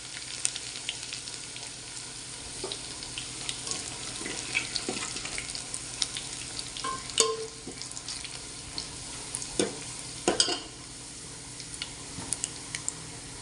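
Garlic fries in hot oil as a tempering for spicy kat amti: a steady, fairly loud sizzle and crackle with scattered sharp pops and spits throughout, with no talking.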